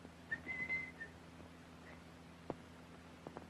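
A person whistles a few short, faint notes in a 1944 Charlie Chan film scene, followed by quiet room tone and a couple of soft knocks, with no talking.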